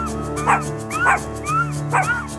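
Puppies give three or four short, high yips and whimpers at regular intervals, close by, over a low steady background hum.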